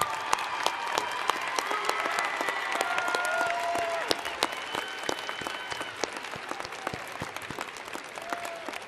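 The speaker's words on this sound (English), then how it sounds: "would you all stand and applaud our students?" A standing audience at a School of Public Health commencement ceremony applauds the graduating students, with sustained dense clapping that fills the hall and slowly thins toward the end.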